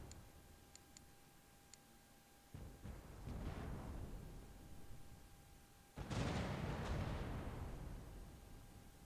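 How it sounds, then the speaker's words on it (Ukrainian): Two heavy booming ship cannon blasts from the video game The Pirate: Caribbean Hunt, a few seconds apart, each rolling into a long decaying rumble, over faint ticking clicks. "Давай я теж тоді з основних гармат трошки йому роздам."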